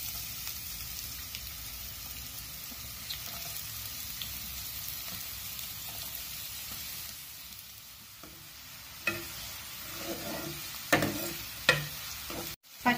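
Onions frying in oil in a pan for a phool makhana masala curry, a steady broadband sizzle running throughout, with a few sharper stirring clinks near the end.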